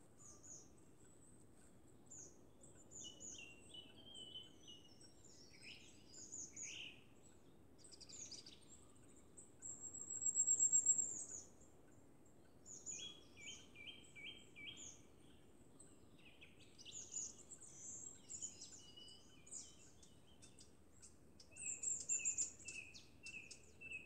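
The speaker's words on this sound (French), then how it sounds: "je me laisse happer par le chant des oiseaux." Birds sing outdoors in springtime, scattered chirps and short trilling phrases from several birds, faint and mostly distant against a quiet background, with a few louder bursts.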